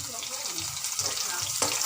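Potatoes fry in oil for a rui fish curry, sizzling and crackling close by with a brief clatter near the end; a faint voice may sound in the background.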